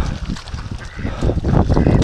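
Ducks on a lake near a canoe honk and quack in a noisy, overlapping cluster, close by, with splashing and outdoor bustle underneath.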